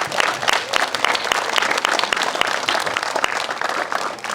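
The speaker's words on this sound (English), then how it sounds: "Another round of applause, please," A concert audience gives loud, dense applause for the trombone players at a city band performance, a continuous crowd of clapping hands sustained throughout, close and full.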